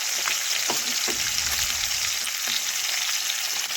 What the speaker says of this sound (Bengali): দেখুন, মাছগুলো ভাজা হয়ে গেছে। এখন মাছগুলো আমি তেল ঝরিয়ে তুলে নেব।